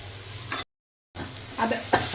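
Frying with salt and turmeric stirred in a pan: a close sizzle with brief scraping stirs, cut by a short silent gap, then more quick stirring clatter.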